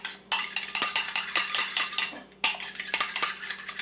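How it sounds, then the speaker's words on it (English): A fork or whisk beats an egg in a bowl with rapid rhythmic clinking strokes against the sides, close and bright, pausing briefly midway before resuming, no speech. "Make sure you really beat the egg."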